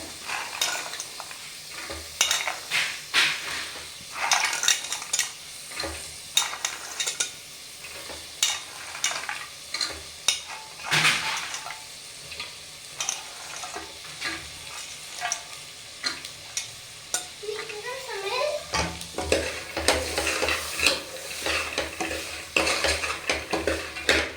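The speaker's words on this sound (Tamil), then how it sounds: "இந்த மசாலா கூட ஒன்று சேர்ந்து வறுத்துக்காக நான் கடலை இப்போ சேர்த்துக்கிறேன்" Steady sizzling of chickpeas frying with spices in a hot pan, with repeated scraping and stirring of a utensil against metal, no voices.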